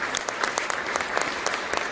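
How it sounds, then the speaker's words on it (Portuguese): A short burst of audience applause at a ceremony honoring a former senator, steady overlapping clapping from a seated crowd with individual claps standing out. "Também uma salva de palmas para o ex-senador Lazier Martins."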